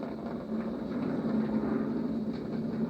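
Steady, broad roar of a SpaceX Falcon 9 rocket's engines climbing toward maximum dynamic pressure while throttled down, a constant low rumble with no talk.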